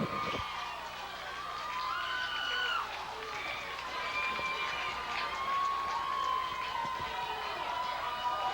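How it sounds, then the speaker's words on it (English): A Viking marching band plays while the crowd cheers at a high school football game, a distant, steady wash of brass tones and crowd noise with no close voices. "And we'll listen to the Viking band cheer."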